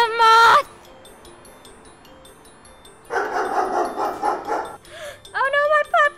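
A puppy barking and yipping outdoors in short bursts, with a high whine at the start and again at the end, while a stretch of muffled noise fills the middle.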